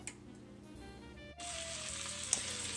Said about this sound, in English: it's time to crisp up the bacon by frying it